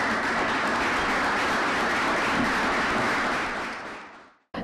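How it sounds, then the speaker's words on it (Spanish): A seated audience at an academic talk on sexual dissidence politics in Latin America claps loudly and steadily for a speaker, a dense wash of applause that fades out over the last second before a brief silence. "Le damos un fuerte aplauso a Berta."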